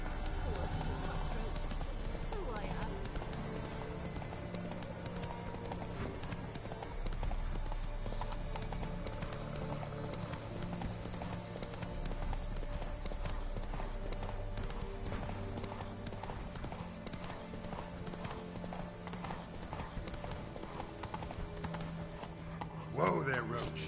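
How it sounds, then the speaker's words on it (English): Hooves of the horse Roach clip-clop at a steady gallop in The Witcher video game, heard continuously and close over a low game music bed, with a brief snort near the end. "Whoa there, Roach."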